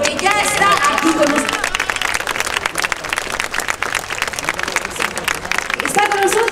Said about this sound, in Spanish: Les escuchen muy fuerte esos aplausos